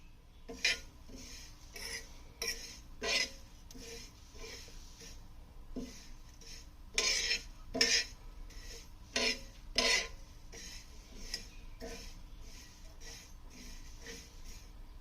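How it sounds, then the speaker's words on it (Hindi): Metal spoon scraping and clinking in a pan as mango pickle ingredients are slowly roasted over a low flame, a series of irregular stirring strokes, fairly quiet with no talking. "उसको हम स्लोली भूनेंगे और इसका फ्लेम आपको स्लो पे रखना है।"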